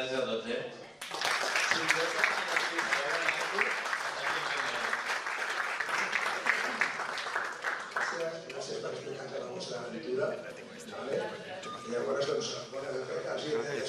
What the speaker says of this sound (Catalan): Un altre aplaudiment per desitjar-li tota la sort del món.